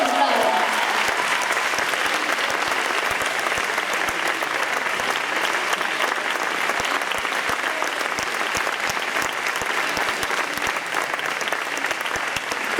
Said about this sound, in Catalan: Un fort aplaudiment per ells, sisplau